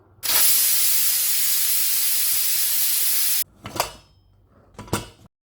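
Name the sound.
pressure cooker whistle and steam hiss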